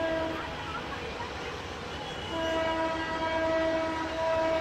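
A crowded passenger train in Bangladesh rumbles steadily nearby, and its horn rises over the rolling noise as a sustained tone in the second half.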